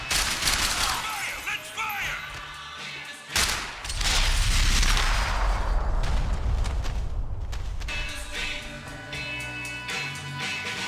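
Gunfire in the video game Max Payne 3: a heavy volley of shots and booming impacts that swells and keeps going, with a sharp crack before it and another burst later.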